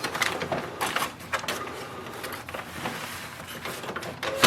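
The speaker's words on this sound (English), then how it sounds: "So open the paper tray, load A4 size or letter size paper" The paper tray of an HP OfficeJet Pro 8139e inkjet printer slides open and sheets are loaded, giving close, soft plastic clicks, shuffles and scrapes with no talking.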